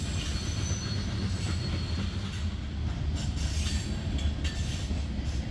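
A freight train led by locomotive NS 6954 rolls past close by, its cars producing a continuous loud rumble with high metallic wheel squeal layered on top.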